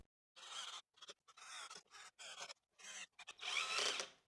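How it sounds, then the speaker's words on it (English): Steel screws, 4 by 50 millimetres, driven into old reclaimed wood in a woodworking build, heard as a series of close grinding, rasping bursts separated by short pauses, ending in a longer, louder run. "I can now screw in the screws."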